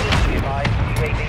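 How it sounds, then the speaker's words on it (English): A RAM-7 rifle magazine reload in Call of Duty Modern Warfare 3 multiplayer: quick mechanical clicks and clacks set within dense, continuous gameplay noise, with a voice speaking over it. "Switching mags."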